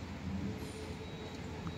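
A train rumbles steadily nearby, a low continuous roar close to a train station and a playground at holiday time, with no clear speech.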